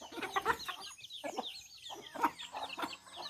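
Clucks and chirps from black hens and their young on a small farm in the morning among scattered corn come in uneven bursts, with a short lull midway and fairly quiet overall.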